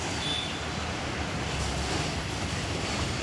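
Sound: pieces frying in hot oil

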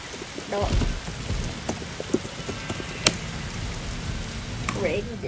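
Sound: rain in a video game

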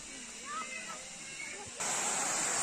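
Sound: waterfall

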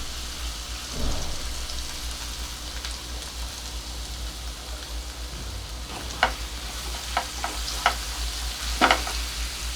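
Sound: sautéing sandwich masala ingredients in a pan

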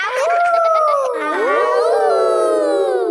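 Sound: wolf howl imitation

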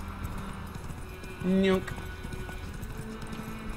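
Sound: horse hooves galloping in The Witcher 3 video game

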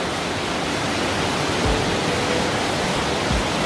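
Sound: waterfall inside Hwanseon Cave

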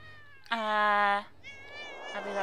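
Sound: cats meowing in the video game Thirty Flights of Loving

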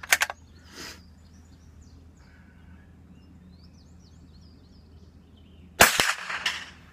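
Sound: Savage Mark I G rifle shots hitting steel plate rack

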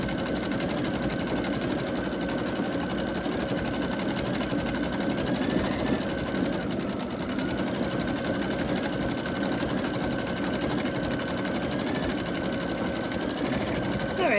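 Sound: embroidery machine stitching a monogram on a hand towel

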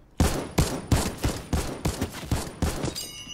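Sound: gunfire from an upgraded weapon in the video game Fortnite

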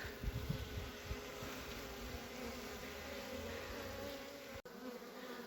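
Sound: honeybees buzzing at hive

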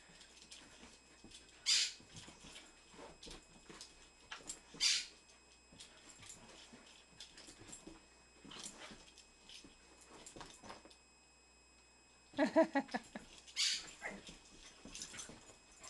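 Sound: dogs playing and whimpering

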